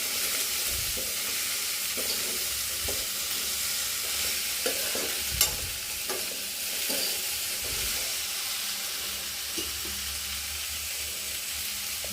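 Okra sizzles steadily as it fries in a wok on a gas stove, with occasional scrapes and clinks as it is stirred, close and continuous under a constant hiss.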